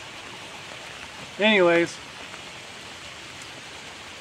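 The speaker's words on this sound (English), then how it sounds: "let me duck out of the rain here" Steady rain pours down during a storm by the Cumberland waters, a dense, even hiss throughout, with someone speaking briefly over it.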